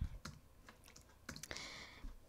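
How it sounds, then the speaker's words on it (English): One-handed typing on a computer keyboard: scattered, uneven key clicks close by, with irregular pauses between bursts and a slightly longer rattle near the end; no one speaks. "Sorry, I'm typing with one hand."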